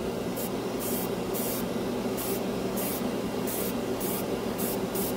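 Airbrush spraying Vallejo Mecha Color paint onto a scale model, a near hiss broken into short repeated bursts of about half a second each over a steady background of airy noise, with no talking.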